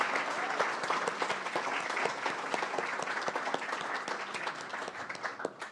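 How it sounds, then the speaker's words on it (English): Audience applause for filmmakers at a screening event, a dense, even wash of many hands clapping continuously, heard from a distance at a modest level. "And we'll take another round of applause for Joseph Sims-Dennett and Josh Zammit from Observance."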